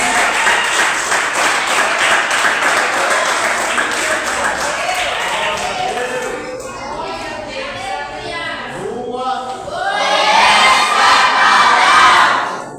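A church congregation at a revival campaign service applauds and cheers, a dense crowd roar of clapping, shouts and voices that thins midway, then swells again louder near the end.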